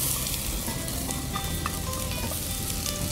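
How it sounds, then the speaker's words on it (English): Chopped shallots, garlic and yellow onion sauteing in two tablespoons of butter for soup, an even, close sizzle with scattered small pops and crackles, no speech. "We're going to saute our shallots, chopped shallots."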